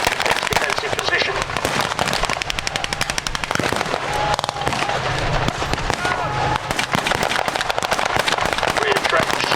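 Rifle and machine-gun fire crackles in rapid bursts, punctuated by heavy mortar thumps, at a WWII-style battle reenactment with trenches and armoured vehicles. The sharp reports are loud and close and continue without pause through the scene.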